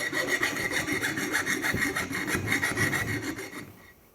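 Metal file rasping across the freshly cut end of a Porsche 944 strut tube, rapid rhythmic back-and-forth strokes close up, steady for several seconds before fading out.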